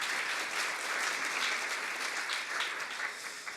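A seated audience at a Korean university student journalists' launch ceremony applauds steadily, with dense continuous clapping throughout that eases slightly at the very end.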